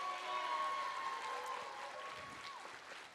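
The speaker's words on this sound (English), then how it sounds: "Let's give him a round of applause." Theater audience at a Broadway revue applauds a sound technician, a short, moderate round of clapping under a sustained musical tone that fades after a few seconds.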